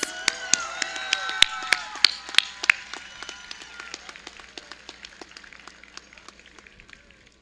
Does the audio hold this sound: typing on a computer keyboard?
no